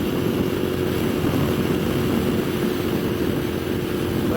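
A 2015 Moto Guzzi V7 mk2 750cc motorcycle cruising at speed, its engine a loud, steady drone blended with heavy wind rush, continuous and close throughout without pauses.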